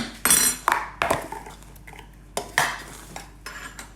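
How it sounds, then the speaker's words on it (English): A spoon clinks and scrapes against a bowl while coconut and pineapple muffin batter with egg and vanilla is gently stirred, in a few sharp knocks followed by softer, irregular taps, close and with no talking. "All we're doing is a gentle stir because these are muffins, not cupcakes."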